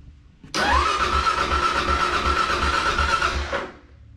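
A Kawasaki KLR 650 motorcycle engine, unstarted for about a week, cranks and catches abruptly, then runs loud and close with a steady thumping idle for about three seconds before dropping away.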